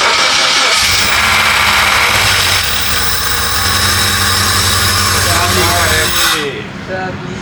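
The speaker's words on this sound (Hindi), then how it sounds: "इंजन पहले हमें स्टार्ट हो गया।" A swapped engine in a Suzuki Jimny starts up: an abrupt catch, then a loud, close, steady running rumble for about five seconds before it cuts off, with a voice briefly audible around it.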